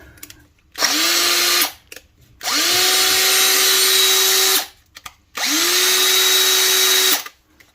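A brushed Makita DHP458 cordless drill, freshly fitted with new carbon brushes, whirs up loudly three times in quick succession, each run spinning up to a steady high whine, holding for about two seconds, then cutting off.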